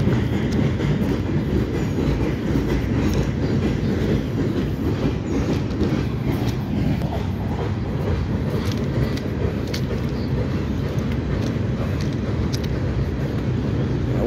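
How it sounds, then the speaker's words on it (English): CSX freight cars, tank cars among them, roll past behind a reversed Norfolk Southern GP switcher with steady clickety-clack and faint wheel squeal, a continuous moderately loud rumble. "it must be these carts speeding up"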